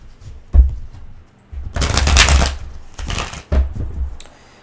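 Tarot cards are shuffled in several quick riffling bursts close up, with soft taps and pauses between each shuffle.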